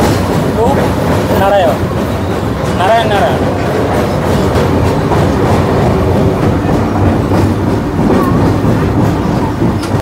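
The Tamralipta Express from Digha to Howrah runs into Uluberia station, a loud, close, continuous roar of wheels and rolling stock with squealing tones early on, heard from on board.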